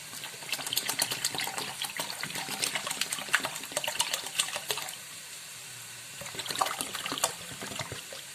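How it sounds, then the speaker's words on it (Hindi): Water pouring and splashing into a pot, a steady trickling stream that eases briefly, then picks up again. "डबल पानी डाल दिया है।"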